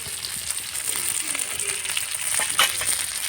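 Fish frying in a pan, a close, steady hiss and crackle of hot oil lasting a few seconds, with no talking over it.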